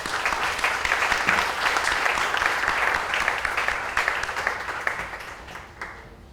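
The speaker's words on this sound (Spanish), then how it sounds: "El aplauso es para ustedes." Audience at a youth journalism and entrepreneurship conference breaks into sustained applause, a dense, fairly loud roomful of clapping that holds steady and then gradually thins and fades toward the end.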